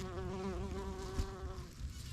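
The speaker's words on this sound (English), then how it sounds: "These bumblebees just love this blue flower." Bumblebees buzz steadily around blue flowers in a permaculture garden, a close, continuous droning hum with no talk over it.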